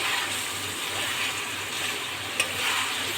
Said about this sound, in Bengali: সুন্দর করে ভাজা ভাজা করেছি